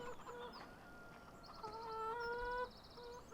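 A chicken clucks in the farming video game Farming Simulator 17, a brief soft bird call against a quiet game background.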